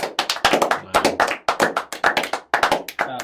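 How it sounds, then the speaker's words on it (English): Several people clap in short, sharp bursts during a quiz game, close and lively, in four uneven rounds separated by brief pauses. "Let's give it a clap."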